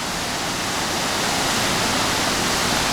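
A river in Kutaisi, Georgia runs high after heavy rains, a loud, broad, unbroken rushing roar of water that fills the whole stretch, with no voices.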